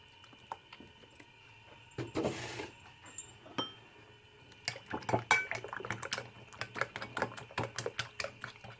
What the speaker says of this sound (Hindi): थोड़ा सा इसमें दूध ऐड करके इसको अच्छे से मिक्स कर लूँगी